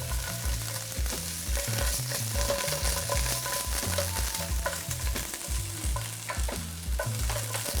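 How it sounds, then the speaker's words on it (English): Garlic and tomato paste sautéing in a pan, steady frying sizzle with repeated stirring scrapes, close and continuous, no talk. "I wanna saute those up for about 2 minutes or so."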